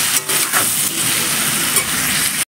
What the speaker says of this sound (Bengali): তো আমি ফুলকপি আলুটা একসঙ্গেই দিয়ে দিলাম, একসঙ্গেই ভেজে নেবো ভালো করে এখন।